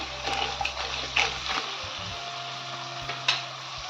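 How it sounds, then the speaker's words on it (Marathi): Crab claws stir-fried in a pan, a close, steady hiss and sputter of hot oil with small splashy pops and a low hum underneath, with no voices. "आपण डांगे टाकून आता परतून घ्यायचंय छान."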